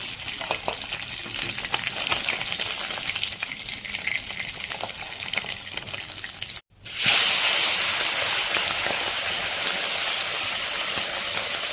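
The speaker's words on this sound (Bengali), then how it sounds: "একে একে সব মাছ এইভাবে ভেজে নিব" Pieces of rohu fish fry in a pan of hot oil for a Bengali sour fish dish. The sizzle is a continuous hiss that drops out for a moment, then returns louder and brighter.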